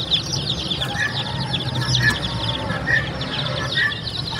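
Baby chickens at a farm clucking and chirping steadily, several birds close by in a continuous chorus with brief louder calls about once a second, no talk.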